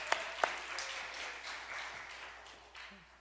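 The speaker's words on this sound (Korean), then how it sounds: "자, 우리 크게 한 박수 한번 하겠습니다" A church congregation applauds at a late-night Friday service, a soft, distant wash of clapping with two sharp claps near the start, gradually fading toward the end.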